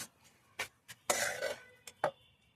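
Onion and other ingredients dropped into a stone mortar outdoors: a few scattered knocks and clatters, one longer rustling scrape in the middle, quiet and close with pauses between.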